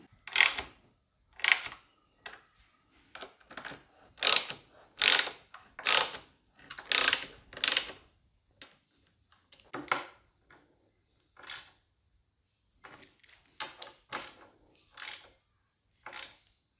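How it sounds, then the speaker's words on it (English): Ratchet wrench tightening the bolts of a B&B Off-Road compact tail rack and luggage plate on a Yamaha Tenere 700, close and clear, in repeated bursts of rapid clicking strokes with short pauses between, no talking. "I'm going to go ahead and tighten up all these bolts now."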